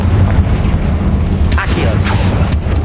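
In Hogwarts Legacy, a Confringo fire spell blasts amid continuous loud rumbling game combat, with a couple of sharp bursts in the second half.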